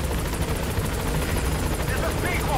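A helicopter in Metal Gear Solid V, with loud continuous rotor thrumming and turbine whine filling the scene. A voice speaks over the noise.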